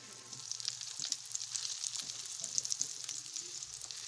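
Mesheltet pastry fries in hot oil, a bright, steady sizzle with crackling pops and spatters throughout, fairly close and unbroken by talk.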